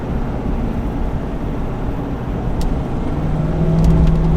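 A Chevy 2500 Duramax diesel truck towing up a 6% grade, its engine droning loud and close as it downshifts. The steady rumble holds under road and wind noise, and a gear change lifts the tone near the end.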